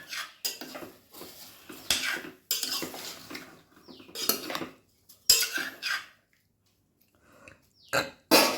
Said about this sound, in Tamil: குக்கரை மூடுறோம்